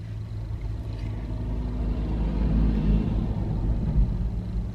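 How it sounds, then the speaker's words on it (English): Semi-trucks pass on a nearby road, giving a steady low engine rumble that swells toward the middle and then eases a little, with no voices over it. "The only downside is semi-trucks go back and forth every 2 minutes"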